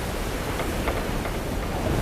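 Stormy ocean with big waves in a gale, a continuous loud washing roar of surf and wind with no voices.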